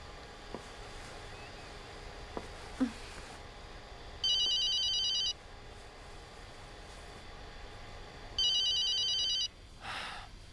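A telephone rings in two long electronic trills with a pause between, fairly clear over a steady background hum, with a faint voice briefly at the end.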